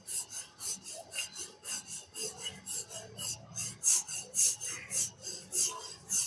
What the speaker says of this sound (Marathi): पातळ अशी पुरणपोळी लाटून घ्यायची आहे.